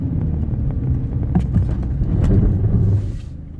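A BMW F11 gains speed on the road, a loud, close rumble of engine and tires that swells toward the end and then eases off, with no talking over it.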